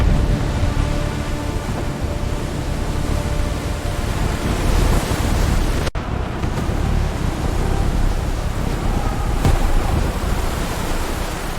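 Water surges and roars around a sinking Roman merchant ship, a loud, continuous broadband rush like churning surf, steady throughout with one brief dropout midway and no voices.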